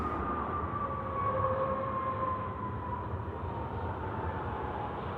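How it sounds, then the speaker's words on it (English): A Jetstar Airbus A321 passes at Sydney Airport at night, a steady broad jet roar with a slowly falling whine, moderately distant and continuous, with no voices. "Nice shot there of the Jetstar 321 just coming through as well."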